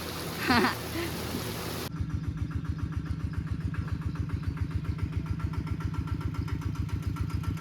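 After a brief noisy start, the small single-cylinder engine of a walking tractor chugs in a fast, even putter, steady and fairly close.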